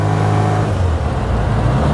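A restored 1960 Bugeye Sprite with a performance exhaust drives along, its engine a loud, steady, close-up drone with a low exhaust rumble and no talking.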